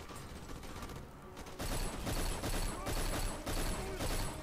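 Rapid bursts of automatic gunfire in the shooter game Black, loud, dense and rattling, coming in repeated volleys after a brief lull.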